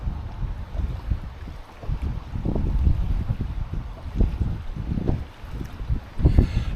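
Waves slap against the stern of a small anchored boat in choppy water, an irregular series of soft thuds and splashes over steady wind noise.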